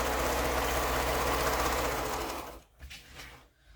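A sewing machine runs in a steady, fast, even whir while stitching a quilt seam, close and loud for most of the stretch, then stops, leaving a few faint handling noises.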